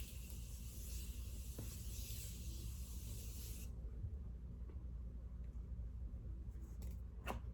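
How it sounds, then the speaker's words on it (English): Morphe setting spray mists onto a face in a steady, close hiss lasting a few seconds before cutting off, followed by quiet room tone and a couple of faint short spritzes near the end. "Let's set our face. My Morphe setting spray."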